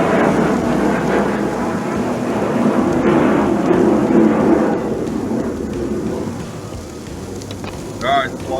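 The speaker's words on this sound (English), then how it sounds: "Alright, the flyover's done" Aircraft flyover passing overhead outdoors at a backyard barbecue, a loud broad roar that swells toward the middle and slowly fades, with a faint voice near the end.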